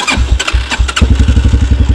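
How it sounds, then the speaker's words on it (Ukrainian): A Shineray VXR 300 motorcycle with a factory straight-through exhaust fires up close and loud, catching after a couple of tries and settling into a fast, throbbing idle. "Прямоточний вихлоп."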